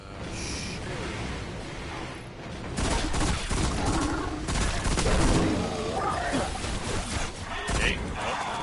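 Gunfire in the Destiny video game, bursts of rapid, loud shots in the middle, clustered together over a dense, noisy background of game sound.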